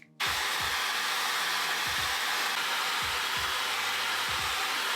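Hair blow dryer on the cold setting drying a man's hair, switching on abruptly to a loud steady roaring whoosh with repeated low buffeting thumps as the airflow moves around.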